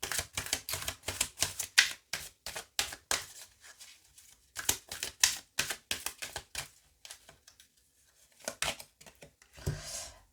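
Oracle cards are shuffled and drawn by hand, close up, in rapid bursts of crisp flicking and snapping, with pauses between the bursts and no talking.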